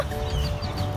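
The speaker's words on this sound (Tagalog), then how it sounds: "Ayan, ang daming ibon." A dense chorus of many birds calling from trees in a Walmart parking lot. Overlapping chirps and chatter come loud and continuous, with no speech.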